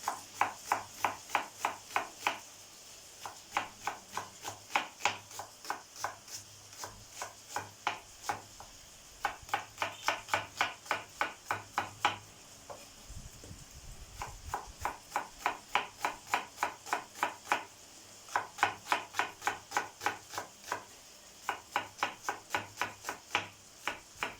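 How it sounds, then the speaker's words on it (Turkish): A knife chops an onion coarsely on a board in fast, steady runs of sharp taps, pausing briefly between rounds, close and clear. "Şimdi Soğanımı da doğrayayım."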